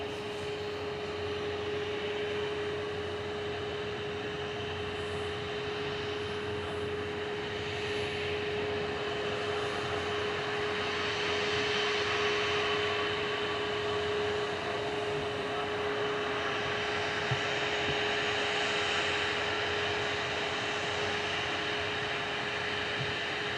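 A Ryanair Boeing 737 MAX 8-200 lined up for takeoff at Manchester Airport on a flight to Porto, producing a long, steady engine whine and rushing roar with a sustained tonal hum, swelling slightly midway.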